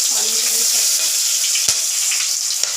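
Garam masala for biryani sizzling in plenty of hot oil, a loud, steady frying hiss close up, broken by a couple of sharp pops, with someone talking briefly over it.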